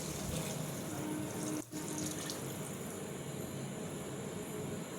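Water poured steadily into a cooking pot for chicken pulav, a continuous splashing rush with one brief break partway through, no voices.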